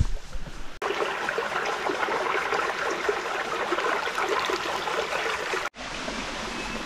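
A small stream runs beside Houdongkeng waterfall in Yilan, giving a steady, full rushing of flowing water that fills the scene with no voices. Two abrupt cuts split it into three segments.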